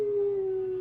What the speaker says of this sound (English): I had the howling sound right here on my phone.